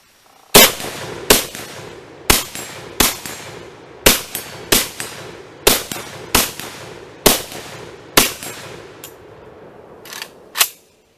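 Roughly a dozen sharp, loud rifle shots from an AK-style Shockwave firearm with an arm brace, fired outdoors in an uneven rhythm of quick pairs and single cracks, each followed by a short echoing decay.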